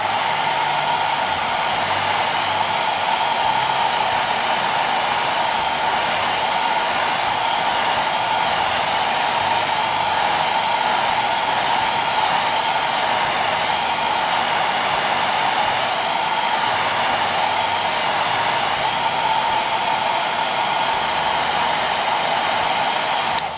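A hair dryer blows continuously and steadily at close range, drying a watercolour painting, with a constant whirring hum and no other sounds.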